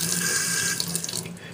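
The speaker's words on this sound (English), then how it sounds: "All you do is push down, drain the water out." Water gushes steadily from the drain hose of an Igloo countertop dishwasher after its pressure is released, a close, continuous pour that eases off slightly toward the end.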